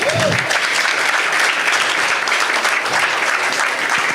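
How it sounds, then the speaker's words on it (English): An audience at a media intelligence and engagement conference in Barbados claps for itself: dense, steady applause held loud and close for the whole stretch, with no talking over it. "So give yourselves a big round of applause."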